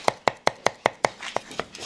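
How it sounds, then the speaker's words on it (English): Knife chopping palm sugar on a board while cooking traditional Balinese dishes, about ten sharp, evenly spaced chops close up, steady at first and then slightly softer and less regular toward the end. "then he chopped up some palm sugar"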